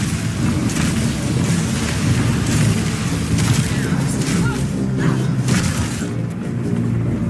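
Armor-piercing crossbow bolts fire in Path of Exile 2 amid a dense battle of booming impacts, shattering hits and rapid volleys, loud and continuous for several seconds, with a voice talking over the fray.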